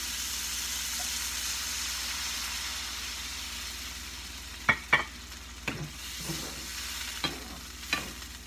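Water goes into a hot frying pan with chicken strips and cabbage, making a steady hiss followed by several sharp clatters and spits of utensil or pan noise near the end, with no voices.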